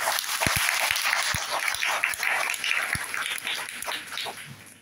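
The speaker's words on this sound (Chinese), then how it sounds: "我真的给 UV 一个热烈掌声" A crowd at a company recognition gathering applauding, an uneven rattle of clapping hands with a few heavier thumps, fairly close and loud, fading slightly toward the end.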